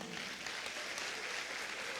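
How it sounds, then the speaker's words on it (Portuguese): A crowd claps continuously, a dense and even wash of applause that holds steady throughout. "Vamos aplaudir o Senhor, vamos."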